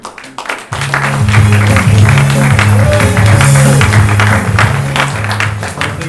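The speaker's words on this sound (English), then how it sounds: "Round of applause." Studio audience applause on a TV talk show, sustained clapping throughout under a loud low sustained musical tone, the clapping steady and fairly near.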